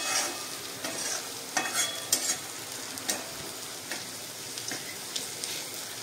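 Mutton with red chilli powder is stirred in a pan, a spoon scraping and clinking in repeated strokes over a constant close sizzle, with no one speaking.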